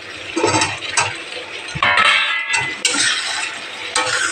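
Tomato goes into a pan of spiced curry masala with Kashmiri red chilli, coriander and chui jhal, bringing bursts of wet sizzling, scraping and clattering as the mixture is stirred up close.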